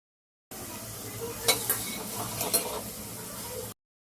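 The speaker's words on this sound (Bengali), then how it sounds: "পটলগুলোকে ভাজা ভাজার মতো করে নিচ্ছি আর কি।" Pointed gourd being stirred as it fries in a pan, a soft continuous sizzle broken by a few sharp scrapes and clinks of the utensil against the pan, close and fairly quiet.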